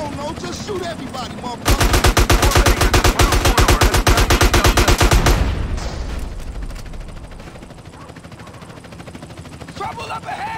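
Rapid automatic gunfire rattles loudly in GTA San Andreas, a sustained burst of several seconds, then trailing scattered shots and game ambience, with voices talking before and after.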